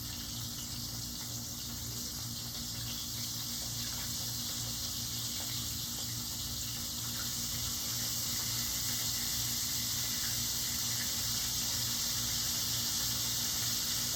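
Battered chicken livers fry in a pan of hot oil, giving a steady, even hiss with a faint hum underneath that holds constant throughout.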